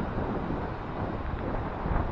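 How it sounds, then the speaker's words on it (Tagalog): Strong wind at Talisay Beach, San Narciso, Quezon buffets the microphone in a constant loud roar, with faint surf-like rushing underneath. "Lakas ng hangin"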